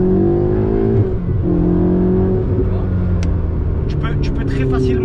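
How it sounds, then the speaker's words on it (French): A Ferrari 488 GTB with a 670 hp engine accelerates in Dubai, its engine note climbing steadily and droning loud and close while someone talks over it. "tu accélères direct, ça part"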